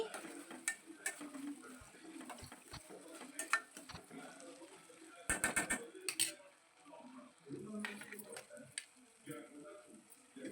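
Dried fish with tomato and onion pieces cooking in a pan with tamarind leaves nearby, soft sizzling under a spoon stirring and scraping with sharp clicks, quiet and close while a person talks.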